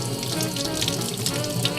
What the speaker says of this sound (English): Let's get this over to the sink and rinse it off.